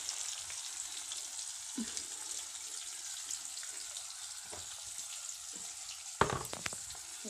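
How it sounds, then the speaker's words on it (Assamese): Onion and garlic fry in a pan until browned, giving a steady close sizzle throughout, with a few soft stirring knocks and clinks toward the end. "এই আমি পিঁয়াজ আৰু নহৰুখিনি ভাজি লৈছোঁ ৰঙাকৈ।"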